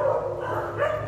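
Several dogs bark in the yard of a home in Quevedo where dozens of dogs are kept, a steady mid-distance mix of yips and barks running through the whole moment without speech.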